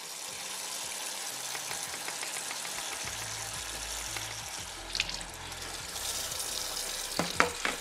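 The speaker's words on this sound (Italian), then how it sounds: "Ci si arma di un colino e sotto il getto dell'acqua semplicemente si lavano" Running water from a tap pours steadily through a sieve as tomato seeds are rinsed, a continuous close splashing hiss with brief clinks and shifts near the end and no talking.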